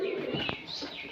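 Pigeons on a pigeon farm give a soft, close cooing call, one brief throaty coo over quiet background noise without talk.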